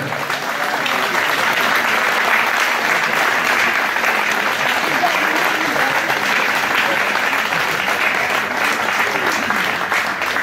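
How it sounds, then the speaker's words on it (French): A large festival audience in a sustained, loud ovation for the official festival committee team, dense clapping that holds evenly throughout. "une grande ovation pour toute l'équipe du comité officiel des fêtes"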